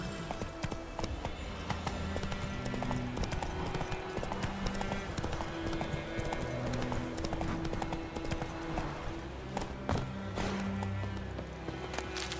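A horse gallops in The Witcher 3, its hooves clip-clopping in a rapid, steady rhythm close by over a dense game soundscape, with a few brief snorts or whinnies.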